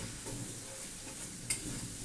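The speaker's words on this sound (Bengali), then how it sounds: "ভালো করে কষিয়ে নিয়ে" Spice masala cooks down in oil for prawns in yogurt, a faint, steady sizzle with soft stirring scrapes and one sharper clink midway, quiet and close.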